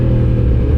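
A Yamaha MT-10 motorcycle being ridden makes a brief, loud, close engine rumble with a steady low drone and no talking.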